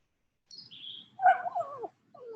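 A dog whines in high, wavering cries that rise and fall over a couple of seconds, with a fainter cry trailing in at the end, heard during an indoor exercise class.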